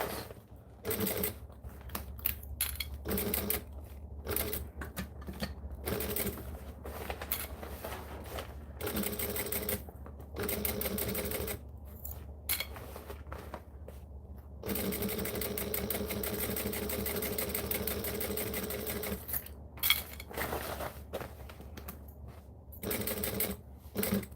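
A sewing machine running in rapid mechanical bursts, its stitching chatter starting and stopping repeatedly between short pauses, with a steady whirring drone during longer runs, close and fairly loud.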